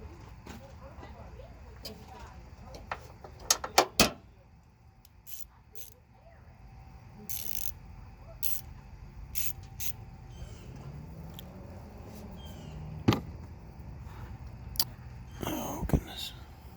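A VCT solenoid is screwed back into a 2011 Ford Mustang GT 5.0 engine with scattered metallic clicks and ratcheting taps, some sharp and close, mixed with low murmured talk and workshop rustling.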